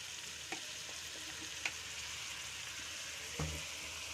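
Vegetables seasoned with black pepper and soy sauce fry in a pan for chow mein, a soft steady sizzle with a few faint clinks of stirring, no talk over it.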